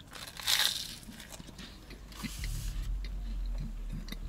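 A close, crisp crunch as someone bites into toasted garlic bread inside a car, followed by softer chewing and rustling noises.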